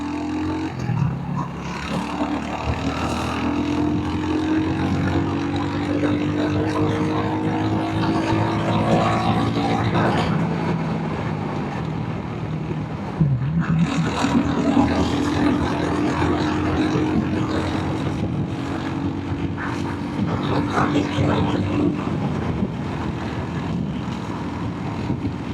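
A Royal Enfield Hunter 350 motorcycle rides at high speed, its steady engine drone rising in pitch as it accelerates, with a brief dip at a gear change midway, all under constant wind rush and no talk.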